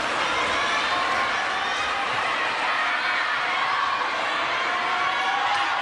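A large crowd at a women's singles quarterfinal table tennis match reacts with continuous murmuring, laughter and cheering, a dense, steady wash of many voices with no single voice standing out.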